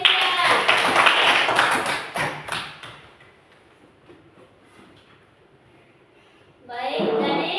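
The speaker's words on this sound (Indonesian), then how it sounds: "Ya, tepuk tangan untuk Gesya." A classroom claps for a student named Gesya during a teaching-practice lesson: a brisk burst of clapping that tapers off within a few seconds, followed by quiet and then a voice speaking.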